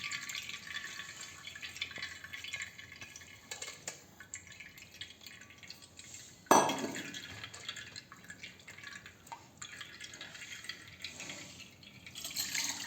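Soaked poha tipped into a sieve, with water trickling and dripping through the mesh, faint and intermittent, and a brief louder splash of pouring midway.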